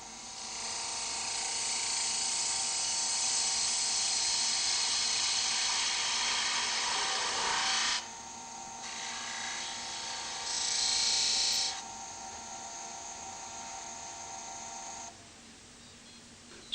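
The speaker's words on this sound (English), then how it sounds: "Turn the outside of the cup following the internal profile using a 3/8 or 10mm" A wood lathe turns the outside of a cup with a 3/8 inch (10 mm) fingernail spindle gouge, a steady high whine and cutting hiss that changes pitch as the cut pauses and resumes, then drops to a quieter hum near the end.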